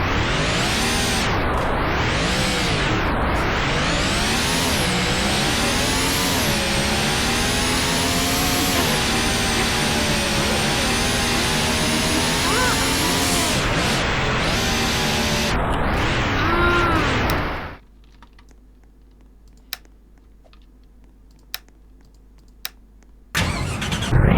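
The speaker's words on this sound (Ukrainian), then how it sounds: "Це дріфтова машина." A drift car in a racing video game revs hard for about seventeen seconds. The engine note climbs and falls in repeated sweeping waves, then cuts off, leaving near silence broken by a few faint clicks.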